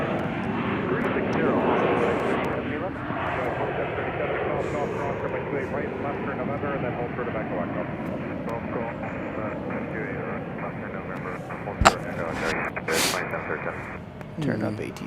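An Airbus A320 roars at Chicago O'Hare airport, a broad, sustained engine rumble that fades slightly over the clip, with muffled voices beneath it and a sharp click near the end.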